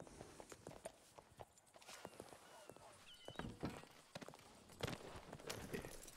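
Horse hooves clip-clop at a ranch in a roleplay video game, with a steady run of soft, uneven hoof thuds and footsteps under people talking in Spanish.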